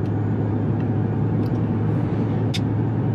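A 2025 RAM 1500 Hurricane SST HO pickup with a TorqueFlite transmission accelerates toward 60, heard from inside the cab as a steady low engine and road drone with a couple of brief faint clicks.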